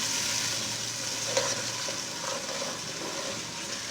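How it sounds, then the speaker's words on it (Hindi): Turmeric, salt and red chilli masala fries for aloo palak in a steady, close hiss with faint stirring taps and no voices. "इसको अच्छी तरह भून लेंगे मसाले को"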